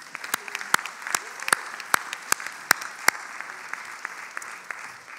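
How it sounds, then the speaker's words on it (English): An audience at a hotel school graduation ceremony claps for diploma students. The clapping is sparse and fairly quiet, with distinct individual claps standing out over a soft crowd background and thinning toward the end. "let's give our second-year students, the diploma students, a big round of applause"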